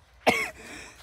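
A single sharp cough from a camera operator with a coughing fit, close and fairly loud, trailing off into quiet room noise.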